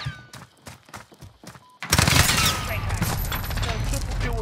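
Gunfire in the video game Call of Duty: Modern Warfare comes as a few sharp, separate shots. A dense, loud burst of explosive action and effects follows, with game sounds filling the mix.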